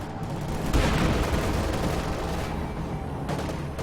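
Incendiary artillery fire in a 2v2 video game final, a loud, continuous barrage of dense crackling booms that swells near the start and rolls on steadily to the end.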